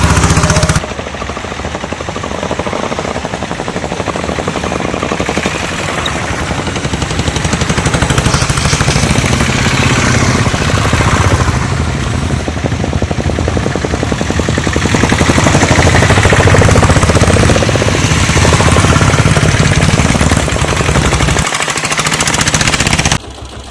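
A vehicle engine runs close by with a loud, continuous, rapid rattling putter that swells slightly midway and then cuts off abruptly near the end.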